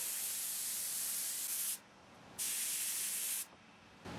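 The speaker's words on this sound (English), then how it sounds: "I sprayed trim glue all over the cover and on the cover for the cover." Trim glue is sprayed from an aerosol can onto a carpet-wrapped tray cover during a 1966 Triumph Spitfire MK2 restoration, giving two long, loud, close hissing bursts separated by a brief pause, then a third burst starting.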